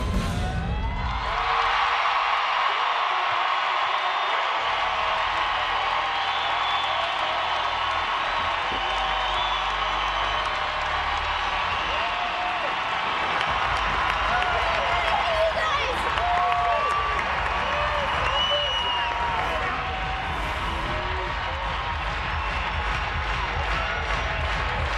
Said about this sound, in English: this crowd is going wild